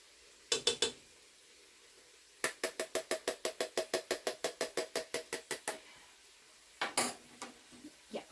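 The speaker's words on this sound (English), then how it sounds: "Go ahead and kind of mix it in." A metal spoon stirring chili in a pot clinks against the sides in a quick, steady run of about twenty rhythmic taps, preceded and followed by a few shorter clusters of clatter, close and clear.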